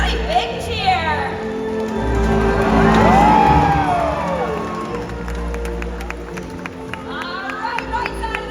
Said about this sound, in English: So when you see Trua, let's give him a really big cheer.